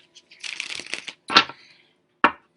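Tarot cards riffle and slide in a quick shuffling run, followed by two sharp snaps as the deck is squared, close and fairly quiet.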